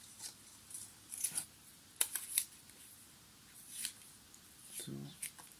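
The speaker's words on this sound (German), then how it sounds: "Vielleicht darfst du ja auch mit der Schere schneiden." Scissors snip white paper in a few faint, separate clicks and crisp cuts, with quiet movement sounds and soft speech at a low level around them.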